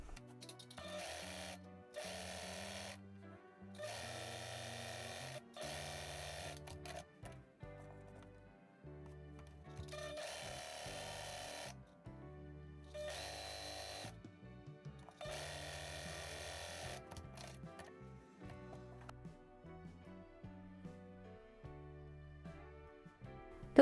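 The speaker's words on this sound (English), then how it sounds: "I'm sewing just with a number 2 tension because my fabric is really thin and the thread is gathering it" A sewing machine on low tension stitches thin fabric in repeated bursts of a few seconds each, a close rhythmic mechanical whir separated by short pauses, with no talk.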